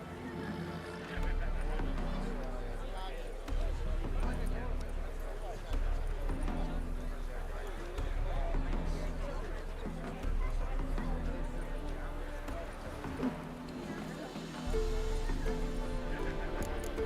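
Horses in The Witcher 3 whinny and shuffle over a steady low game soundscape, with hoof clip-clops and voices speaking throughout.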